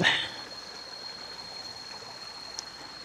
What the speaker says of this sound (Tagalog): Meron dito maliit na ilog.